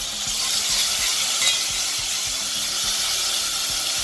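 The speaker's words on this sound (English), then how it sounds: "I'm gonna let this fry before I add my beans" Haitian epis seasoning fries in oil in a pot for pigeon peas and rice, giving a steady, close, even sizzle and hiss that runs throughout with faint low clatter beneath, and no talking.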